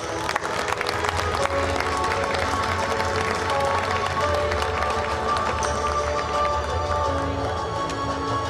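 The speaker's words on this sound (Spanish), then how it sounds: "cuando queráis, un aplauso para ellos" A crowd at a Roman historical reenactment in Villena applauds a legion reenactor group, giving a dense, steady wash of clapping mixed with crowd noise that holds evenly throughout.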